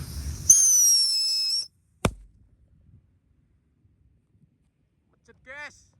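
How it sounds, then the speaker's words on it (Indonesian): A Happy Power 4 firecracker is lit and goes off once in a single sharp bang, preceded by a whistling hiss. Afterwards there is a long quiet stretch, then a faint chirping tail. "Selanjutnya kita nyalakan mercon Happy Power 4. Ini merconnya bledes ning isor, bledes ning dhuwur."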